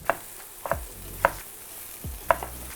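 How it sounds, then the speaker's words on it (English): Chopped white onion browning in a hot pan, with a faint sizzle beneath sharp utensil knocks and scrapes that recur roughly every half second to second, close and fairly loud, no talking. "We're gonna brown our onion first."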